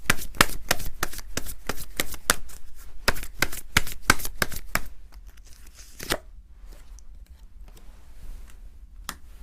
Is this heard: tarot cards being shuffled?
yes